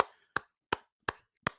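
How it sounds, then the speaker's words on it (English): Four sharp, evenly spaced claps ring out close and loud, each a crisp isolated smack with a short decay, like a single person's hands giving brief applause. "Let's go ahead and give a round of applause for Stig Kenobi."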